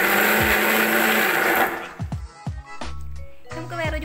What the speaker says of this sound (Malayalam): എന്നിട്ട് ചെറുതായിട്ടൊന്ന് കറക്കിയെടുക്കാം.